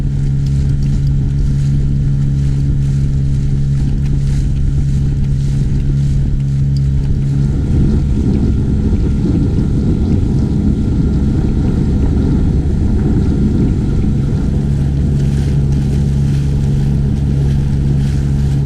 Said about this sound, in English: My only real issue with the outboard is the noise.